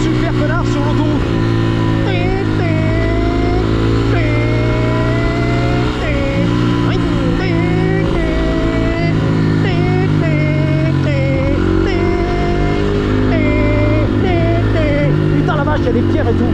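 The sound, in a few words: school bus engine driving on a highway, from a video game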